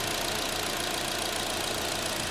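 Idling 1.8-liter naturally aspirated four-cylinder in a 2014 Chevy Cruze, a steady close engine hum with a faint rapid ticking throughout, no voices.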